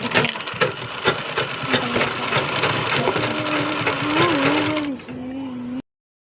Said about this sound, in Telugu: స్టిచ్చింగ్ వీడియో స్టిచ్చింగ్ చేస్తున్నాను పాల్స్ అనమాట శారీకి వేస్తున్నాను ఫాల్స్ స్టిచ్చింగ్ చేస్తున్నానండి